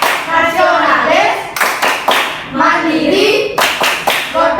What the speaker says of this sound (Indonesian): sekarang ibu akan mengajak anak-anak melakukan tepuk PPK